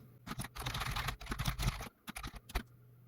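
Fast bursts of keystrokes on a computer keyboard while Java code is typed, close and crisp, in uneven clusters with brief pauses between runs, and no talking.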